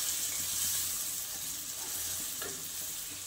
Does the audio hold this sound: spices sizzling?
yes